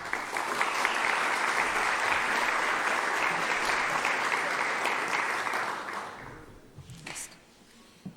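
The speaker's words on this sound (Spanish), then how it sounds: "Un aplauso, por favor." Sustained audience applause welcoming a speaker at an expo event, loud and dense for about six seconds before fading out into a quiet room with a few last claps.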